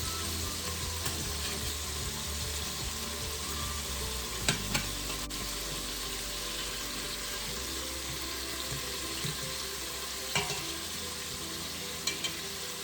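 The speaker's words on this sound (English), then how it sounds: "So I'm trying to brown my meatballs into a pot" Meatballs sizzle and crackle steadily as they brown in a hot pot, with a few sharper clinks and stirring scrapes breaking through now and then.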